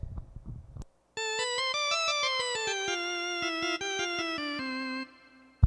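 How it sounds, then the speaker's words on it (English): A tinny 1960s combo organ tone in the Vox or Farfisa style plays a stepwise melody of short, even notes, clear and moderately loud, after some brief noise at the start. "We used to call it a tinny organ sound"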